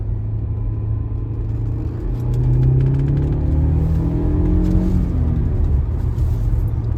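A 2006 Audi A4 Avant quattro 2.0T FSI with a six-speed manual pulls hard from inside the cabin, its engine note climbing steadily in pitch over a constant low road rumble.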